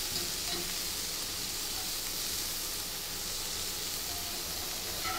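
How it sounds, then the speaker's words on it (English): Shrimp searing in a hot skillet, giving a loud, continuous hissing sizzle that holds steady from start to finish with no talking. "Now we go ahead and we flip those shrimp. And again, we just need to sear them on each side."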